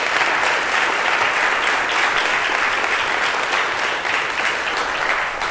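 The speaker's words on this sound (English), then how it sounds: "So let's give the chamber and Julie and everyone a round of applause for that." Sustained applause from an audience at a chamber of commerce transportation forecast event, steady and dense throughout with no voices over it.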